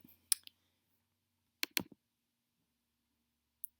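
Computer mouse clicks on a link to open slides, a few sharp isolated clicks spaced apart in otherwise quiet surroundings.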